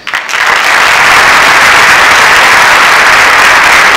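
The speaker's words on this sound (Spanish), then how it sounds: "Con este cálido aplauso Agradecemos al licenciado Francesco Tonucci" Warm audience applause closing a talk by Francesco Tonucci in Villa María, rising within the first half second into a dense, steady wash of clapping that holds loud and unbroken to the end.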